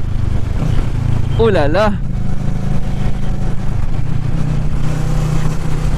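A Kawasaki Ninja 650 motorcycle rides along a road, its engine droning steadily and loud from the rider's position with wind noise; a rider briefly exclaims partway through.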